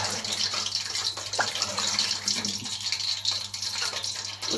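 Yakhni stock poured into a pot of rice for Hyderabadi beef pulao, a steady gushing liquid pour that runs for a few seconds with faint rattling of the pot underneath.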